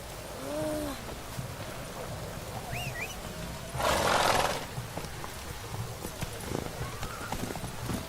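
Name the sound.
horse Roach galloping in The Witcher 3 video game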